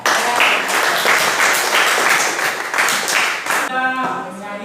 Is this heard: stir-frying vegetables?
no